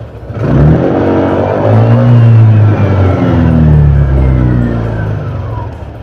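A fuel-injected motorcycle engine is revved steadily during a diagnostic scanner check, a loud, close, sustained roar with rising and falling pitch for several seconds, no voices.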